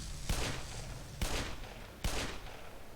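Gun firing in the Half-Life Xen beta game, three loud sharp shots spaced about a second apart, each with a short echoing decay and no talking.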